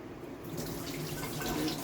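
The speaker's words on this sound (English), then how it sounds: "I'm gonna discard of this water and get some fresh water." Tap water runs steadily into a kitchen sink while saltfish is rinsed, a soft continuous splashing stream, faint and even throughout.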